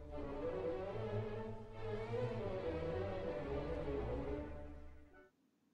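An orchestra plays a brief, full passage from a Mozart overture, with strings and low bass sustaining together, moderately loud, then cutting off abruptly near the end.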